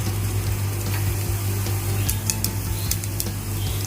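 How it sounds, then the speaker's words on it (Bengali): Cumin seeds hit hot oil in a pan and set off a dense, continuous sizzle with scattered crackles and pops, close and fairly loud, with no voices. "তেল গরম হয়ে গেছে, এবার আমি জিরে ফোড়ন দেব"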